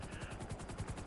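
Rapid, rhythmic thumping of helicopter rotor blades in a video game chops steadily over a low engine whine, sounding close and continuous.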